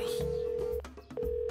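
A telephone rings with a steady electronic tone in repeated bursts, loud and close, with a short gap between rings and brief voices underneath.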